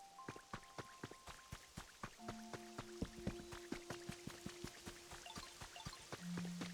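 Rain starting to fall in the video game Pokemon Pokopia: a scattered, irregular patter of drops and drips, with soft chime-like game tones sustained underneath and a short low hum near the end.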